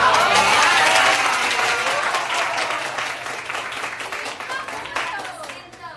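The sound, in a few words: audience applause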